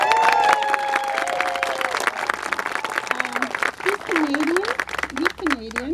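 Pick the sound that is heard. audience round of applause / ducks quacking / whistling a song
audience round of applause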